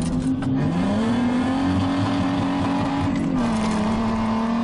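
Toyota Hilux drifting through a showground arena at the Adelaide Royal, its engine droning loud and close with a steady rising-and-falling pitch throughout, no speech over it.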